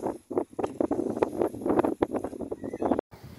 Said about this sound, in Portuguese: O vento da chuva, hein?